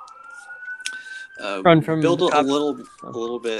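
An ambulance siren wails outside, a faint steady tone gliding slowly downward in the background while people talk loudly over it.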